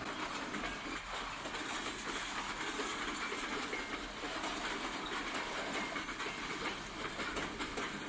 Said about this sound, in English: as we watch the locals pull out of their home yard and head eastbound with a large cut of cars destined for the paper mill